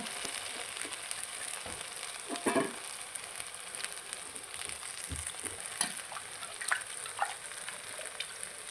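Medu vada batter frying in hot oil, a steady close sizzle with scattered bubbling pops and crackles running throughout, no voices.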